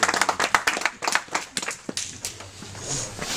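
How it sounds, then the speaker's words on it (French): Audience hands clapping at a sports club's annual general assembly in Salouël, a burst of dense, close claps that thins into a few scattered ones and fades out. "On peut les applaudir aussi."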